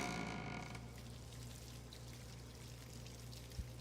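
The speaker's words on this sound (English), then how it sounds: "The sound of water comes from the toilet." Water runs steadily from a toilet in the horror game Spirit Hunter: Death Mark II, a continuous pouring trickle, fairly close. It is louder and fuller for the first second, then settles into a softer, even flow with a small thump near the end.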